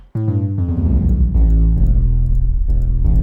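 Deep, distorted sub-bass notes hit in succession, each sliding and ringing into the next so they overlap, loud and heavy with no talking.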